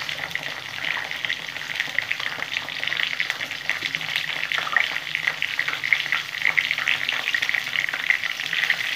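Sliced pointed gourd fries in oil with salt and turmeric. Loud, dense sizzling crackles throughout without pause, with faint stirring underneath.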